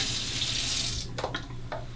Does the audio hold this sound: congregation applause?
no